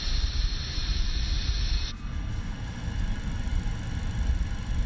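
The APU of an MD-80 Maddog starts up in Microsoft Flight Simulator: a steady mechanical whine and rumble that drops abruptly partway through, then settles into a continuous hum with no voices.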